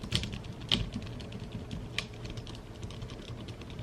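Key switches on a newly built custom mechanical gaming keyboard clack in a brisk, steady typing run, with several louder, sharper keystrokes standing out, all close and alone without talking.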